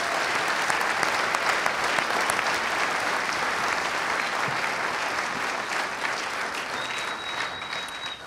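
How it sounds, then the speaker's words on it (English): A crowd at a university event applauds the Roberts family, the family of Dodgers manager Dave Roberts, with sustained, dense clapping that holds steady for several seconds before tapering slightly. "round of applause for the Roberts family"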